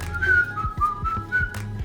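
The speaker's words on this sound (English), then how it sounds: "Whistle while you sift." A person whistles a bright, wavering tune alone and close by while sifting flour into a large mixing bowl for cheddar biscuits, with soft tapping underneath.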